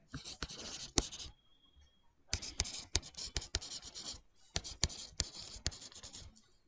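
Pen scratching across paper as accounting notes are written by hand, close and quiet strokes in short bursts separated by brief pauses.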